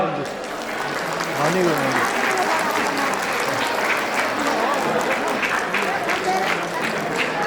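An audience at a Tamu Samaj Syo Kai gathering in Pokhara claps in sustained, dense applause that holds steady for several seconds.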